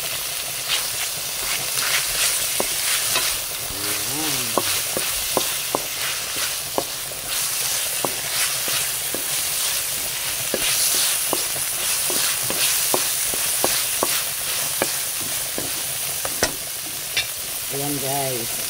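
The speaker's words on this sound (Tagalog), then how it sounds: "Gisa na natin bahagya guys ang ating ingredients na hipon at saka dilis" Shrimp and dried anchovies (dilis) sautéing in a pan with a steady hiss and sizzle, broken by frequent clinks and scrapes of stirring.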